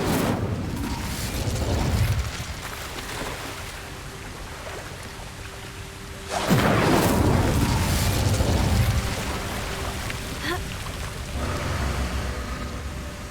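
Incendio fire spell cast in the Hogwarts Legacy video game, heard as a loud whooshing, rumbling burst of flame midway through a low, steady game ambience, with a fainter flare-up near the end.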